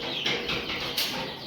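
Poultry chicks on a farm cheep and chirp in a steady, dense chorus while one chick is held in the hand for beak trimming, with a few brief louder peeps standing out near the microphone.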